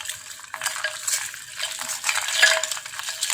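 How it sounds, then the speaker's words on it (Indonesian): Basil seeds stirred into dissolved sugar water for an iced drink, a spoon clinking and scraping steadily against the container, close and fairly loud with no talking. "Kita aduk."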